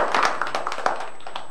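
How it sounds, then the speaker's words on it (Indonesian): Students in a classroom give a round of light, scattered hand claps for a classmate, a brief patter of overlapping claps at moderate distance with no talking. "tepuk tangan untuk Dani"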